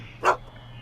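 Einstein, the dog in the Back to the Future video game, gives a single short bark, sharp and clear over a quiet low background hum.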